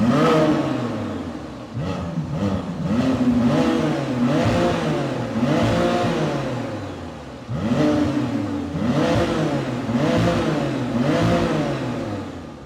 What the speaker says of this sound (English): Okay, so now it's time for a sound check from the outside. We'll be starting up the Artura